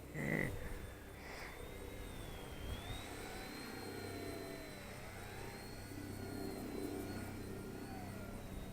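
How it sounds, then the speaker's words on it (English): A small Eachine E110 four-channel RC helicopter hovers and manoeuvres with a steady, faint motor whine that wavers in pitch as it moves, with brief clicks near the start and no talking. "Pretty cool little helicopter."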